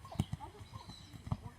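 Horse hooves clip-clopping in a few sharp, close knocks, spaced unevenly over a brief stretch, with a low background rumble.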